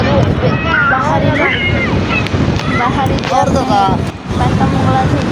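Sea waves wash onto the shore in a steady, loud roar, with wind buffeting the microphone and people talking over it.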